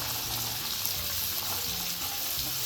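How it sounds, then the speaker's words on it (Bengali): Capsicum, peas and vegetables for vegetarian fried rice hiss steadily in a hot pan, with a watery sizzle and occasional stirring scrapes, close and even. "এবার ভালোভাবে নাড়াচাড়া করে ভেজে নেব"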